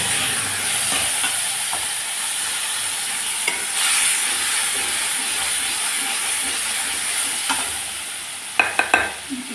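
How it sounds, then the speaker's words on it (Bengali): Spice paste frying in mustard oil in a wok gives a continuous close hiss and sizzle. Scraping stir strokes break through now and then, with a few sharper clatters near the end. "দিয়ে দিচ্ছি মিক্সি গ্রাইন্ডারে পেস্ট করা মশলা"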